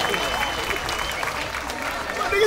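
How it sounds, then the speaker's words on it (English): Audience applause at a campus singing event, sustained crowd clapping with a busy, even texture and some cheering mixed in throughout. "How about a nice round of applause"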